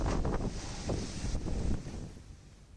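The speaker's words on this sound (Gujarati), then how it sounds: "ધોધમાર વરસાદ અને ભારે પવન ફૂંકાવાના કારણે" Heavy wind and pouring rain lash Isadar village in Dang district during an unseasonal storm, a steady roaring rush of gusting air and rain that surges and then eases slightly toward the end, with no voices.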